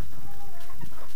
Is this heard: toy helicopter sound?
no